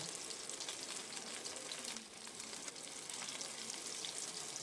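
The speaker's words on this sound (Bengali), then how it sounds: "এবার ভালো করে চিকেনের পিসগুলো ভেজে আমি নামিয়ে নেব" Chicken pieces frying in oil, making a constant, dense crackling sizzle that stays even and faint from start to finish, with no voices.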